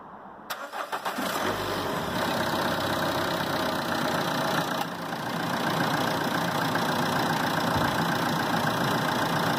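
Car engine cranking briefly and catching, then settling into a steady mid-pitched idle that runs on loud and close, with a slight dip and recovery partway through; no voices.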